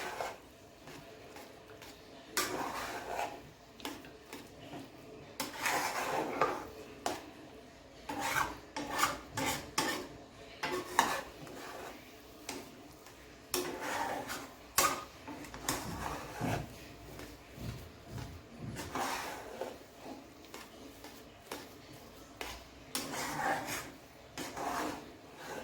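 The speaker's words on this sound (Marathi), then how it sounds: "आता आपण हे चांगलं मिक्स करून घेतो, जेणेकरून ह्याच्यामध्ये गाठी होणार नाही." A spoon scrapes and rasps against a pan while upma is stirred and mixed, coming in soft, irregular bursts of rubbing strokes with brief pauses, fairly quiet and close.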